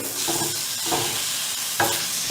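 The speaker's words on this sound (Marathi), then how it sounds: "हे छान आता असं परतून घ्यायचं." A small half-spoon of ginger, garlic, green chili and coriander paste sautés in hot oil in a pan, with a steady sizzle and a few scraping stirs of a spoon, close and continuous, no voices.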